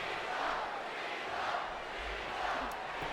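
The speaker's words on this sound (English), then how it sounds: "the crowd welcoming back John Cena here in Cincinnati" Dense arena crowd roar from the WWE 2K19 wrestling video game, a steady, loud wash of cheering fans filling the hall without pause.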